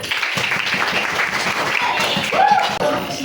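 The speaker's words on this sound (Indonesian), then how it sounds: "Diberikan tepuk tangan kelompok 1." A short burst of clapping from a group of schoolchildren in a classroom, fairly close, with a voice briefly audible underneath.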